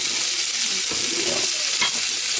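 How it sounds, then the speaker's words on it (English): Potatoes frying in a pan for a home weekend breakfast, a steady broadband sizzle running throughout with a few faint stirring scrapes and no talking. "We're letting the potatoes fry up a little bit."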